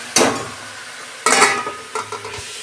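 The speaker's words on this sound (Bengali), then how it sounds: "শাকগুলো 2 মিনিট আমি নেড়ে চেড়ে আমি 5 মিনিট মতন ঢাকা দেবো।" Leafy note shaak greens are stirred in a pan: two sharp bursts of scraping and sizzling, then a few softer spatula knocks, close by with no voices.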